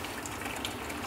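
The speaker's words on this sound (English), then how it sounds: "step one is drain the water out" Water drains out of a Kranzle pressure washer in a steady, close gushing trickle lasting about a second, with no talking.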